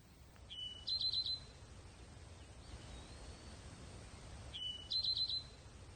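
Sunrise birdsong on McAfee Knob along the Appalachian Trail: two brief bursts of high chirping several seconds apart, faint and distant over a steady airy outdoor hiss.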